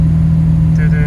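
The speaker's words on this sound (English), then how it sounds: "Idle is of course a little bit rough because we're not running on choke." A Jaguar XK150 engine idles roughly off choke with a steady low hum and a slight misfire, while a person talks over it.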